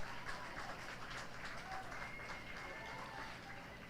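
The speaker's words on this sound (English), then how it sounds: "Let's give a round of applause for our soccer candidates." Crowd at a high school football game between Oologah and Skiatook applauds soccer candidates. Soft, scattered clapping and general crowd noise carry on at a low, steady level across the stands.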